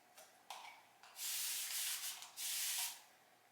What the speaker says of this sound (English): So I'm going to spritz it.